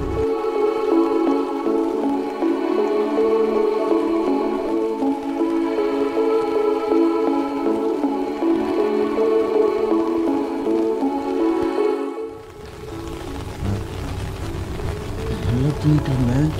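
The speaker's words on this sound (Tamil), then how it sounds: "மழை பெஞ்சிக்கிட்டு இருக்குது." Heavy rain falls steadily through the night on a rooftop camp, a dense continuous patter that shifts to a rougher, wetter wash near the end.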